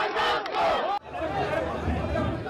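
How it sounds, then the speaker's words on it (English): Rowdy political crowd at a Jubilee party official selection, shouting and chanting slogans against an official, a dense, loud mass of voices throughout with a brief break partway. "a rowdy crowd, which was chanting slogans against one of the Jubilee officials leading the exercise"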